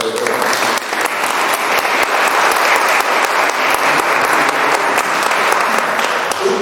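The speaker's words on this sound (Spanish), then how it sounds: "Un aplauso sobre todo para ellos." Sustained applause from an audience at a talk on Edgar Allan Poe, a dense, steady wash of many hands clapping that fills the room evenly for several seconds.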